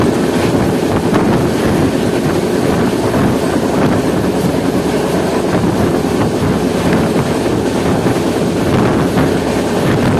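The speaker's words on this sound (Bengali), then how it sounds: "আজকে আমাদের যে কোচটা পড়েছে খুব পুরোনো এবং তার চাকার একটা আওয়াজ এসেছে" Steady rumbling roar from the wheels of an old coach on the Shantiniketan Express running at about 110 km/h, loud and continuous with wind buffeting and faint rhythmic clatter, no talking.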